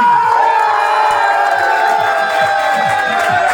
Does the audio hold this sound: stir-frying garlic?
no